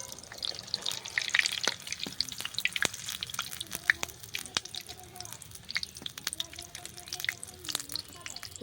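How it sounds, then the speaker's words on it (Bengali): Cabbage and cauliflower Mughlai rolls fry in hot oil with steady crackling and spattering, punctuated by sharp pops and occasional utensil clicks, close and moderately loud. "এইভাবে প্রত্যেকটা ভেজে নিতে হবে, তাই তো?"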